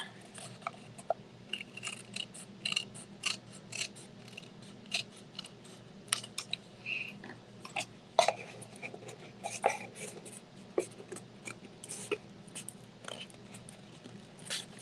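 Scissors cutting through glued paper, a run of quiet close snips and crisp clicks at an uneven pace, with faint rustling of paper between cuts and no talking.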